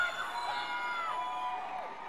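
A small concert crowd on a 1995 Moore Theatre audience tape, heard faintly and distantly, with a thin, drawn-out shout or whoop rising above the murmur.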